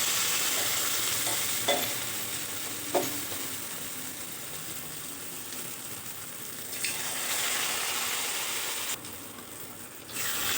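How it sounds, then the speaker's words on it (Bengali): Rice-batter-dipped dried fish pakoras wrapped in ash gourd leaves fry in hot oil, a steady dense sizzle with a few soft clinks as pieces are added, no talk. "তেলটা গরম হয়ে গেছে, চালের ব্যাটারে ডুবিয়ে ডুবিয়ে বড়াগুলো আমি দিয়ে দিচ্ছি।"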